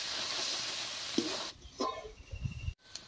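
Turmeric, chili powder and cumin powder are fried in a pan with a loud hiss that suddenly drops, followed by quieter stirring scrapes and softer sizzling.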